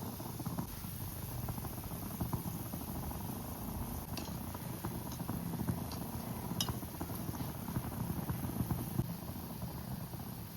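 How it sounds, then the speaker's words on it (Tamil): Gulab jamun balls deep-frying in hot oil in a kadai over a low flame, giving a steady, close, even sizzling hiss throughout, broken by a few faint clinks. "ஒரு கடாயில் வந்து நல்லா எண்ணெய் சூடு பண்ணிவிட்டு கொஞ்சம் சிம்மில் வச்சுட்டு 1 பை 1 நீங்கள் வந்து குலாப் ஜாமை பொரிச்சு எடுக்கணும்"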